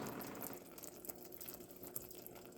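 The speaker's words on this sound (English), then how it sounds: "my mixture of my butter, corn syrup, water is bubbling up" A butter, corn syrup and water mixture for peanut brittle bubbles steadily in a pot, a soft, even, low-level simmering hiss with no talking.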